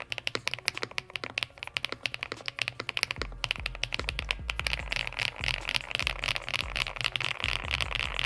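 Fast typing on an Eppomaker TH99 creamy keyboard with numpad: a dense, close run of soft, muted keystrokes that grows steadier and fuller partway through, continuous with no talking.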